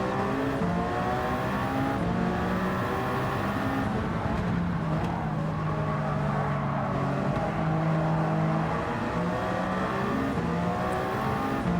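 Race car engines in Gran Turismo 7 during a six-hour endurance race at Watkins Glen, several cars droning and revving together, loud and steady throughout with shifting pitch sweeps as they accelerate and pass.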